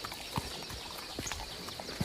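A horse's hooves clip-clop in a few sparse, irregular steps, faint and somewhat distant, with no voices.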